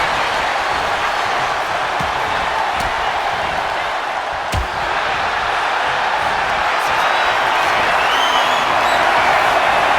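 An arena crowd in the WWE 2K25 wrestling game roars in a steady, dense wash of cheering that stays loud throughout, with a single sharp thud partway through.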